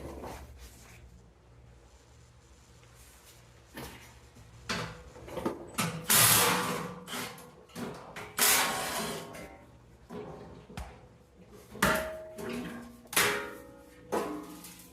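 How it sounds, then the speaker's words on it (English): Hand ratchet with a 12mm socket loosening skid plate bolts on a 2019 Toyota Tacoma, heard as repeated close, sharp clicking bursts in short rhythmic runs, with no talking. "skid plate is held on with 4 bolts. 12mm socket should do the trick."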